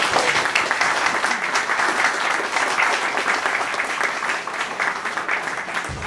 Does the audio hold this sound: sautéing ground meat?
no